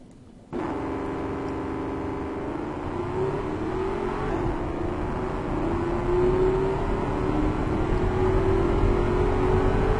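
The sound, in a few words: V8 car engine revving in video game Automation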